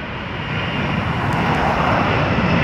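Aircraft engine roar at Grantley Adams International Airport in Barbados, a steady loud broadband drone of a fixed-wing airplane that holds and slightly swells throughout without pause.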